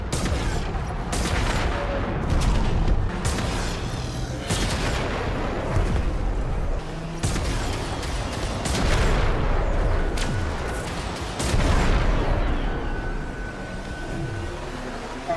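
Mounted guns fire in Warframe's space battle, a steady roar of rapid shots and booming impacts layered over continuous combat noise, loud and sustained.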